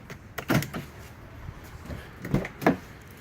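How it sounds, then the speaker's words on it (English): Doors on a 2008 Ford Crown Victoria Police Interceptor, a former sheriff's patrol car, opening and closing: several close, solid clunks and latch thuds in an irregular sequence with quiet gaps between. "And doors just open and close so nice"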